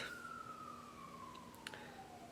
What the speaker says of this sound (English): some sort of siren going on outside